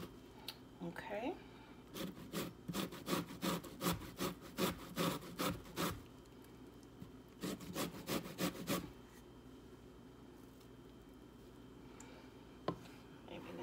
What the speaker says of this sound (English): So I'm just going to grate my zucchini.